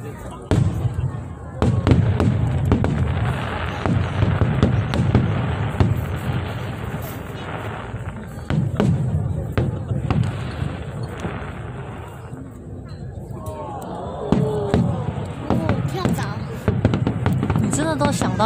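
Fireworks at a National Day celebration burst repeatedly in sharp cracks and rumbling booms, heard from a distance, with people chatting throughout.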